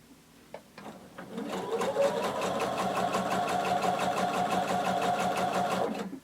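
A sewing machine runs steadily along the hem of a floor-length duster cardigan, a fast even rhythmic stitching chatter after a few handling clicks, close and continuous for several seconds without talk.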